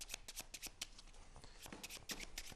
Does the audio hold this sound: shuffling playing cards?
yes